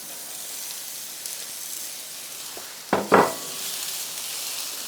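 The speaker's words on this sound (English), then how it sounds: "on here, we are going to put the old peppers and onions" Peppers and onions sizzle quietly in oil in a pan, a soft steady hiss with two brief louder clatters and bursts of sizzling as the vegetables are stirred, no talk.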